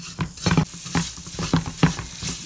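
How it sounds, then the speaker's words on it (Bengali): Vermicelli frying in butter with cardamom pods, stirred briskly in a pan: a rapid rhythm of spatula scrapes and clicks over a soft sizzle, close up, with no voices. "এখন এই বাটারের ভিতরে আমি সেমাইগুলোকে গোল্ডেন করে ভেজে নেব।"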